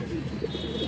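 A brief, close coo from an aboluk male pigeon, low and soft, heard on its own.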